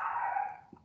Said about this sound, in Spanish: es una prueba de la paciencia hacer clase con el perro ladrando